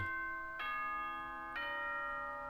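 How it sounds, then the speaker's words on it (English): Ding-dong chime in the game Danganronpa: Trigger Happy Havoc, two bright, ringing bell tones struck about a second apart, each sustaining and overlapping, heard clearly on their own at moderate volume. "That's the Five Nights at Freddy's Ding Dong Bing Bong."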